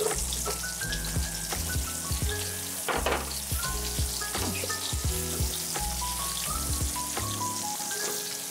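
A thick homemade hamburger steak browns in a frying pan, giving a constant crackling sizzle under loud background music.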